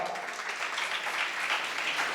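Audience clapping at a Jain religious discourse during the Paryushan festival, a continuous, fairly even wash of applause from a seated crowd with no voices over it.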